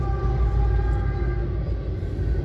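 A train rolls past close by, giving a steady, loud low rumble with faint tonal hum throughout and no talking.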